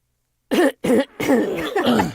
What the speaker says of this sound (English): I want to clear my throat.